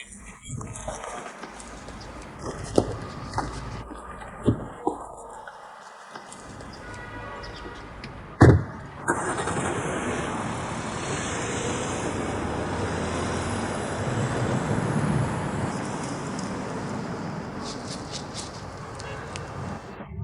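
A car pulls away on a street, its engine and tire noise rising into a sustained roadway rumble after a sharp door-like thump, with faint traffic around.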